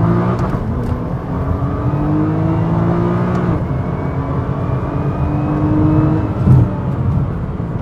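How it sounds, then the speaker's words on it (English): A 2013 Nissan GT-R revs and accelerates hard under launch control, its engine note climbing steadily in pitch through the gears, loud and close from inside the car, with no talk over it. "we're gonna try this launch control one more time. Now we're in manual, we're gonna just rev it"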